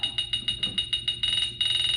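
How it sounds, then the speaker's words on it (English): An iPhone metal detector app beeps rapidly, a steady pulsing tone repeating about eight times a second, then merging into a continuous high beep near the end as it finds a wall stud. "You just move it around till it starts beeping a lot."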